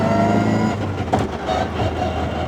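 An NA Mazda Miata with a ZF racing dogbox transmission revs hard and drones at close range, pitch rising and falling with rough mechanical whine, continuous throughout.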